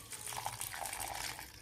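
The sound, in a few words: water poured into soaked vada mixture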